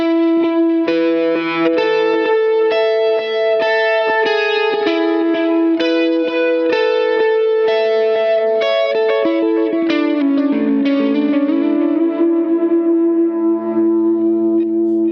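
Electric guitar through a Line 6 POD Go picks a quick repeating melody drenched in echoing delay, notes cascading and overlapping continuously, steady and moderately loud.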